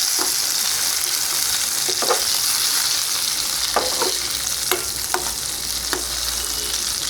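Tomatoes sizzle as they fry in oil in a pan for Tamil tomato rice, a steady close crackle broken by a few brief stirring scrapes, with no talk.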